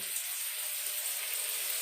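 Sweet soy sauce sizzles in a hot pan while vegetables and sausages cook. The frying hiss is steady and close, with no voice over it.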